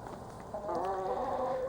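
Laying hens clucking nearby in a henhouse, a low, steady stream of throaty calls that swells after a brief pause and continues without talk.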